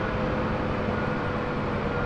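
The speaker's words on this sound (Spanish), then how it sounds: "Vamos a apagar el helicóptero." UH-1H Huey helicopter engine spooling down during shutdown in the DCS World flight simulator, a steady loud broadband turbine and rotor roar that fills the clip without a break.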